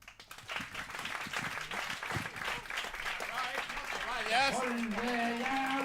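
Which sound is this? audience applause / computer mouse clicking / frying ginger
audience applause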